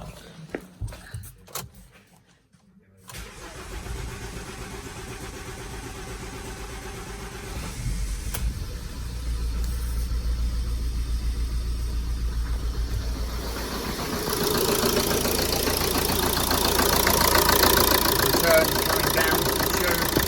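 Ford 1.8 TDCi diesel engine after a fuel filter bleed, cranking briefly then catching and settling into a steady clattering idle that grows slightly louder, with a person talking over it.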